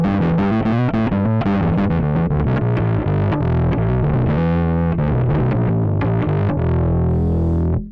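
Electric bass played through an Aguilar Tone Hammer preamp with the distortion boost engaged: a gritty, overdriven bass line of quick notes, loud and close, ending on a sustained low note that cuts off.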